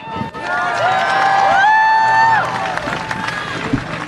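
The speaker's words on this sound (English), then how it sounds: "Please greet them with a hand clap." Crowd at a ceasefire rally outside the US Capitol clapping and cheering, with a prominent sustained shout or whistle-like voice rising above scattered claps, fairly close and loud.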